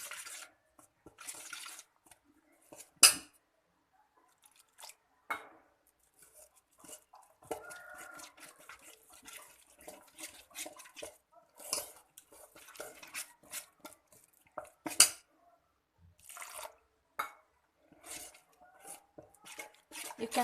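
Rice flour mixed with a little water into a thick batter for paper masala dosa, intermittent close scraping and clinking of a spoon against a bowl, irregular strokes with quiet pauses between.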